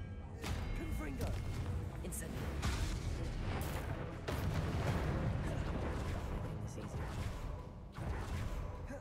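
Explosive spell blasts during a Hogwarts Legacy boss fight, heavy booms and whooshes layered over continuous dense game combat noise with a voice talking throughout.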